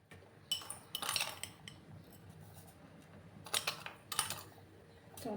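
Spoonfuls of sugar go into mango rice pudding, kheer made with boiled rice, powdered milk and mango pulp: two short bursts of bright clinking from a spoon against the pot, quiet and close, with no talking.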